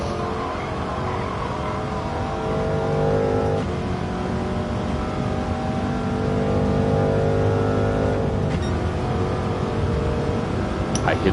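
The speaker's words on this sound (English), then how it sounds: "I hit the rev limiter" A De Tomaso racing car at Monza in Gran Turismo 7, its engine droning at high revs and bouncing off the rev limiter, with shifts and sustained harmonic whine, loud and continuous.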